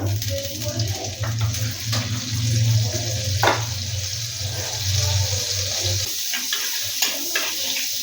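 Water for chicken soup being poured through a strainer, a close, continuous splashing gush with a low hum underneath, ending in a few trailing drips and clinks.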